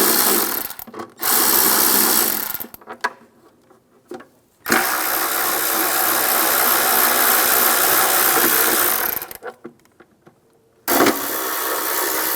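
Bolts being backed out of a timing cover with a 10mm socket on a 1996-2002 Toyota 4Runner, loud sustained mechanical whirring in long bursts separated by near-silent pauses, no speech.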